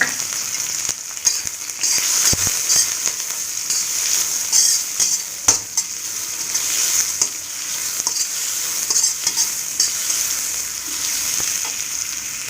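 Chopped onion frying in hot coconut oil in an iron kadai, giving a steady crackling sizzle with occasional stirring scrapes throughout, close and fairly loud with no voices.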